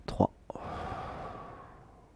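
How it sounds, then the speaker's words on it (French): A person takes a deep breath, a sharp audible inhale followed by a softer, sustained exhale that trails off slowly, close and alone. "Une respiration."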